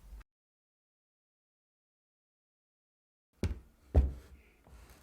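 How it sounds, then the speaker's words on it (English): A bench vise is set up for holding a water supply stopcock, with a few heavy metallic knocks and clunks close by after a silent pause. "I'll set up my vise and hold that in place"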